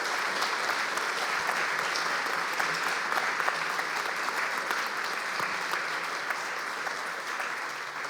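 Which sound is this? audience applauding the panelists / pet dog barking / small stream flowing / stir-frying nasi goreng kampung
audience applauding the panelists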